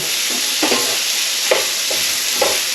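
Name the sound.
ginger, garlic and chilli frying with chicken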